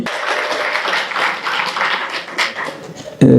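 Applause from a crowd at a graduation ceremony, a dense spatter of hand claps that swells and eases in waves, ending on a louder burst.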